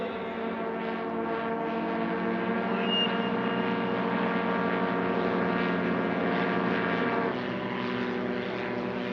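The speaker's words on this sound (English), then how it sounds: "Hal's engaged the beta prop, that reversible pitch prop." A STOL aircraft lands with its propeller in reverse (beta) pitch at a STOL drag race, a loud steady droning roar with rich harmonic whine that holds throughout, slightly shifting in pitch near the end.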